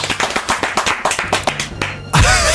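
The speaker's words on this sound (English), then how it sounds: "Round of applause." A short burst of hand clapping from a small group in a podcast-style setting, about a dozen quick claps over two seconds, then a loud rustling bump ends it.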